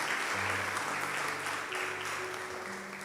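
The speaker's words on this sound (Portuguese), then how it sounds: "As palmas louvam ao Senhor." A church congregation claps in praise after a deacon's sermon, a steady roar of applause close by with a faint tonal hum running beneath it.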